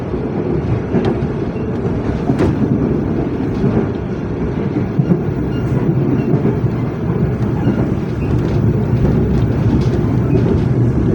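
Loud, steady rumble of a train passing through Sempolan station in Jember, heard from on board with faint rhythmic clicks over the continuous roar and no voices.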